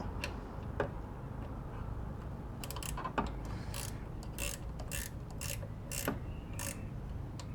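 A ratchet wrench undoes a 12mm bolt on a Mitsubishi 3000GT alternator, giving close repeated ratcheting clicks and ticks in uneven bursts over a low background rumble.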